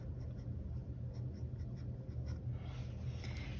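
A pen scratches across paper in a Hobonichi Weeks planner, soft close scribbling strokes continuing steadily with no talk.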